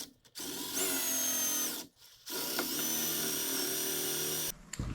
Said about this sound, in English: And now I need to come with the drill and just drill that out.